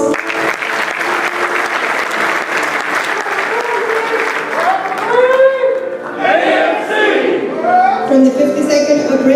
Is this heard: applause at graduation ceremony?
yes